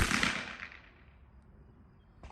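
A Heritage Rough Rider revolver fires a single sharp crack of .22 WMR CCI Maxi Mag, decaying quickly outdoors, followed by a faint click.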